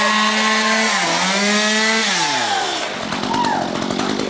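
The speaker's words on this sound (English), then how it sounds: "A cold chainsaw." A chainsaw engine runs loud and close, its pitch sliding up and down as the revs change, then settling into a rough, buzzing idle.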